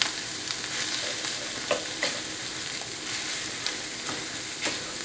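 Sloppy joe mixture being stirred in a sizzling pan, steady frying crackle with periodic scraping strokes of the spoon, close and continuous.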